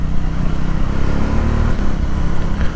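Motorcycles riding together at night on a road, a loud continuous engine drone and rumble heard up close, steady throughout with no talking.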